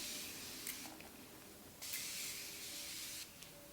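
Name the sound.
makeup setting spray sprayed on face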